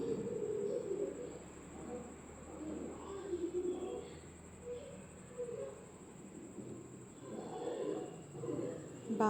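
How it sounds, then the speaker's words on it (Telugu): Two birds in a home garden beside a well coo in low, soft, repeated phrases at moderate distance. A steady high-pitched hiss runs underneath. "అండ్ 2 పిట్టలు వచ్చాయి నేను వీడియో తీస్తుంటే, వాటిని కూడా క్యాప్చర్ చేశాను అనమాట"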